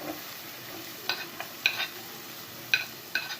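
Large pieces of onion sauté in a little oil in a pan with a soft, steady sizzle, broken by a few light clinks and scrapes of a utensil stirring.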